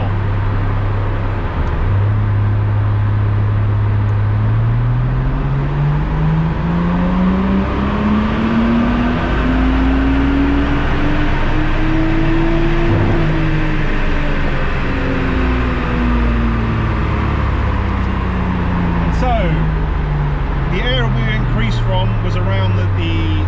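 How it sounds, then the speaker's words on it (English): A Nissan Skyline on a dyno during a Link G4+ ECU tuning run revs steadily up through the gears to a peak, then winds back down, loud and sustained with a voice talking over part of it. "just run the car again, overlaying the previous graph to see where we pick up power"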